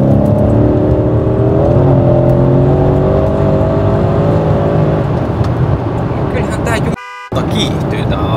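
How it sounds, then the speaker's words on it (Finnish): A used Mercedes C63s AMG accelerates hard, its engine droning loud and steady from inside the cabin with rising tones, while people talk over it and a brief dropout occurs near the end. "Kiihtyy tää auto."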